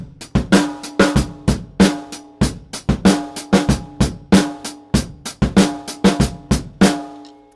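A fast drum groove on hi-hat, snare and bass drum, played sped up with crisp, evenly spaced hits and punchy snare accents in a continuous driving pattern, with no voices.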